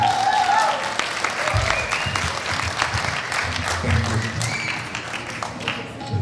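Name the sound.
audience applause at a concert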